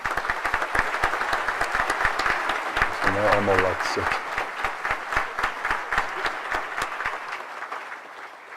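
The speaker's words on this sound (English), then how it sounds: "let us give them a hearty round of applause" At a science graduation ceremony, the hall applauds a departing jazz quartet and brass ensemble with sustained, rhythmic clapping. A voice speaks briefly over the applause midway, and the clapping thins toward the end.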